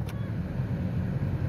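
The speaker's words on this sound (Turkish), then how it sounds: "Elektrofanım çalıştı." A Fiat Linea's electric radiator fan whirs in a low, even hum, running continuously close by with no other sounds.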